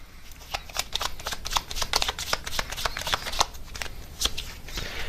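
Cards riffle and slap in quick repeated bursts as advice cards are shuffled for a reading, close and crisp with no talk over it.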